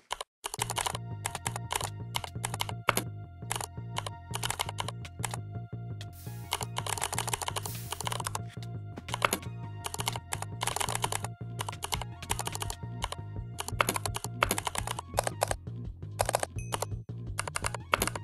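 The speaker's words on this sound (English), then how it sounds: "we're now using the EG Crystal Purple switches. So yeah, listen to this." A mechanical keyboard fitted with EG Crystal Purple switches types steadily, crisp close clacks in a fast, uneven rhythm with brief pauses, alone and fairly quiet.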